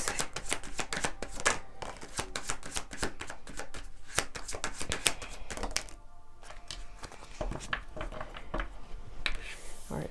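Tarot cards shuffled steadily for about ten seconds, a dense run of close, crisp riffling and slapping strokes with a brief softer pause near the middle, no talking over it.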